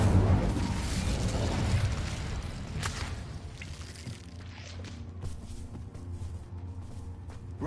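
Incendio fire spell cast in Hogwarts Legacy, a loud whooshing burst of flame that roars up and then thins into a crackling, fading rumble over several seconds, no talking.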